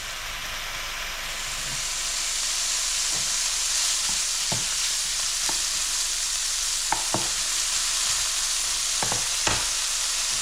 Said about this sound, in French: mettre dans la poêle, dans la même poêle, les lardons. Là pour le coup, poêle bien chaude.